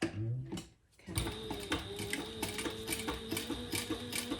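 A sewing machine top stitches 1/8 inch from the edge of a retro-style sling bag, running in a steady, close, rapid stitching rhythm after a brief quiet start, with no talk.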